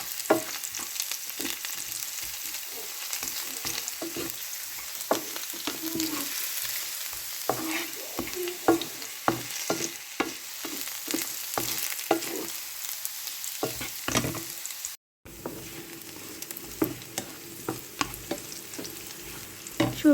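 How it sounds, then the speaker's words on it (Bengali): Potatoes frying in a pan of oil for a fish curry, a soft continuous sizzle broken by frequent scraping and tapping of a spatula turning the pieces, with a brief silent gap partway through. "সেজন্য আলু ভেজে নিচ্ছি।"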